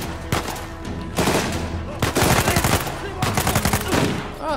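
Bursts of rapid automatic fire from a secondary weapon in Uncharted 4, loud and close, coming in four dense volleys separated by short gaps.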